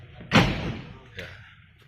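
A cab door on a Venus Ultra SLM 4.0 4x4 self-loading concrete mixer is pushed shut with one loud slam, followed by a softer knock; voices talk nearby.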